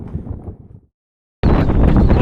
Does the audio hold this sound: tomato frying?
no